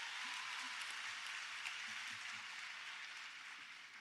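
Audience applause for students at a campus social justice event, a dense, steady wash of clapping from a large crowd that holds and then slowly fades.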